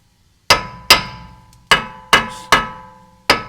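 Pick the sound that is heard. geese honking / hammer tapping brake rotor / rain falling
hammer tapping brake rotor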